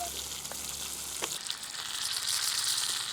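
Tilapia frying in oil in a pan, a continuous close sizzle that grows louder and hissier partway through, with a few soft knocks and no voices.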